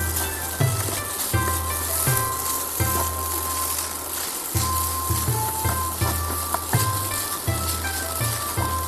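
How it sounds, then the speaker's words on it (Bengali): Boiled noodles tossed with oil in a pan, giving a steady sizzle with scraping and clatter from the tossing, loud and close, no talk. "ভালো করে টস করে নিতে হবে তেলের সঙ্গে"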